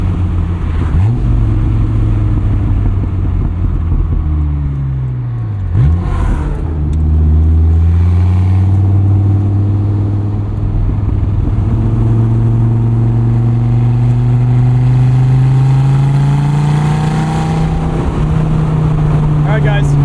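A 2004 Dodge Viper SRT-10 with its V10 engine drives along, its deep, loud drone climbing and dropping in pitch through several rounds of acceleration, close and continuous.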